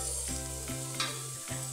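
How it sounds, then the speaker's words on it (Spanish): Garlic and pepper fry in a hot pan while being stirred, giving a steady close sizzle broken by a few soft scraping strokes, with no voices. "Voy a agregar ajos y pimienta. Entonces lo removemos un ratito."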